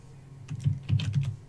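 Several quick keystrokes on a computer keyboard, a short burst of close, soft clicks and taps.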